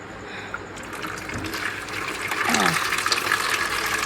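Tap water runs steadily into a bucket hung indoors, making a continuous gushing and splashing stream that grows louder and fuller partway through, close to the listener.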